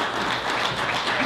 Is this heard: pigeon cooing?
no